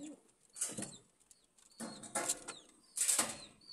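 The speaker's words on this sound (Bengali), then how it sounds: "কবুতরগুলো মাশাআল্লাহ অনেক সুস্থ আছে, সবল আছে।" Pigeons kept at home flap their wings in three short bursts of clattering flutter, with soft coos between them, close and alone without any talk.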